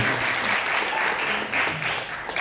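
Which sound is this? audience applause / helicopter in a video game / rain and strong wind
audience applause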